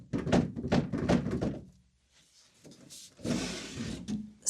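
Several wooden thunks and knocks as an old wooden drawer with worn-out runners is worked loose and pulled from a vintage chest, followed by a longer scraping slide of wood on wood, close and fairly loud.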